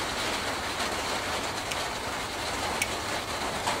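Steady evening rainfall, a dense continuous hiss with occasional faint drop ticks, even and unbroken throughout.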